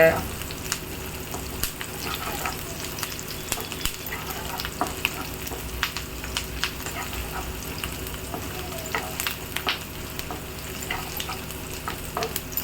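Onions fry in a pan with a steady sizzle under repeated scraping stir strokes, continuous and fairly close throughout.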